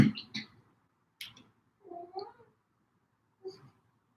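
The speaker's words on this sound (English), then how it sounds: "I have a cat." A pet domestic cat meows in several short, separate calls with quiet gaps between them, close by and fairly clear, with no one speaking over it.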